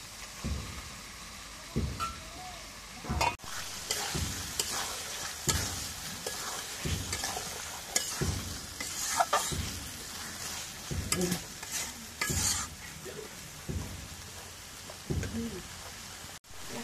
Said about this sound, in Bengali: এখন খাসির মাংসগুলো দিয়ে দিই